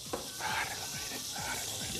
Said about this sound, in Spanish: lo que hice fue tirar la margarina acá y se va a derretir